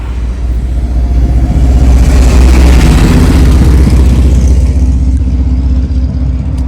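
Cars drive past on a busy road outside an apartment in Slovenia, a loud low engine rumble swelling and fading as vehicles pass close by, with no talk.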